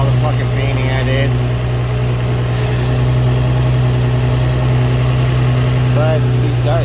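A Nissan 350Z with a swapped-in used engine and new headers idles loud and close with a steady low drone. A voice briefly comes through near the start and end.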